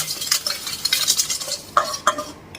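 Sugar and chili seasoning being stirred in a pan for a Thai lemongrass and betel leaf salad dressing, with scraping and a couple of sharp utensil clinks, brief and close, no talking.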